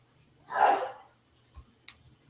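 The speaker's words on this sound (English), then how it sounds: "Don't mind hubby sneezing in the background, even though he's in another room." A man sneezes once from another room, a muffled, fairly distant burst followed by quiet, with a faint soft sound shortly after.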